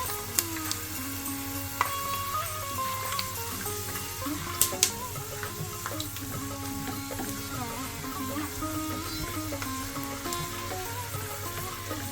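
Mandakki oggarane, seasoned puffed rice, fries quietly in a pan with a soft, steady sizzle broken by scattered light ticks and crackles.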